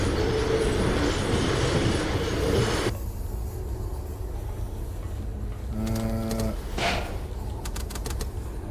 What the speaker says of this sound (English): Oh, is there another train that's sort of in the way?